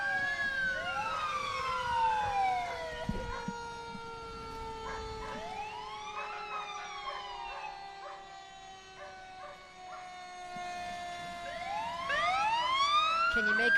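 Fire engine siren wailing at a Memorial Day parade in Peabody, MA, with rising and falling sweeps and horn-like steady tones, fairly loud and continuous, swelling again near the end, with crowd and street noise beneath.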